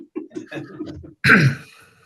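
A faint murmur of low talk, then one loud, close, harsh cough into a microphone lasting about a quarter second, fading into quiet, at a school board meeting.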